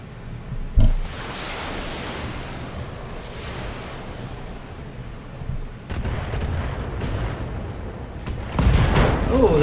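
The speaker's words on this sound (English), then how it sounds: "Internal explosion." A video game explosion from Battletech during a mech battle, a sharp heavy boom followed by a long roaring rumble of battle noise, with further blasts building toward the end.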